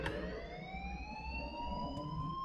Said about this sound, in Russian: пожалуйста, отключите сирену, ведь это ваша работа